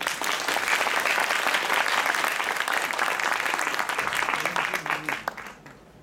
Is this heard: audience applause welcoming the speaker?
yes